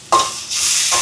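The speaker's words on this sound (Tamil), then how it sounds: "இப்போ பாருங்கள் நல்லா லீட்ஸ் கரட்டெல்லாம் நல்லா வதங்கி வருது." Leeks and carrots sauté in a pan, a brief stirring scrape followed by a close, steady sizzle.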